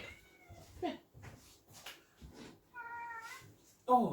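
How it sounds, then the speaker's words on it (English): A noisy house cat meows repeatedly and insistently indoors, several short and long calls close to the microphone, with a louder final yowl and soft rustling between. "So this would be the noisy cat that's making all the noise."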